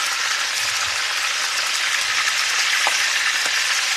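Pork chops frying in a pan, a loud, dense and steady sizzle of hot fat with a couple of faint pops, no talking.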